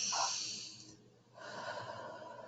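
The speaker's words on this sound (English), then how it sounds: "and then breathe." One slow, deep breath taken close to the microphone: a soft airy inhale, a brief quiet pause, then a longer, steady exhale.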